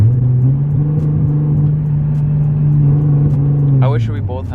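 A tuned Nissan 370Z running on E85 fuel pulls hard under acceleration, its engine droning loud and steady for several seconds before the revs drop and a short burst of higher pitched sound follows.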